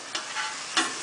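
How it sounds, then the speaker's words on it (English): Onions frying in a pan for a vegan stewed okra dish, a soft sizzle with two brief stirring scrapes, fairly quiet and close, with no talking. "So we're going to cook our onions so they're a little bit done."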